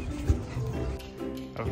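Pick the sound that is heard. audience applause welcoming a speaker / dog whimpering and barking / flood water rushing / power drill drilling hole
dog whimpering and barking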